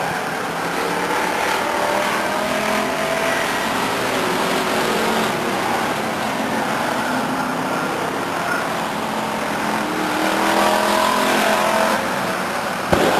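Race cars lapping at Stockton 99 Speedway, a continuous loud roar of engines at mid distance that swells and fades as cars pass, with a brief thump at the end.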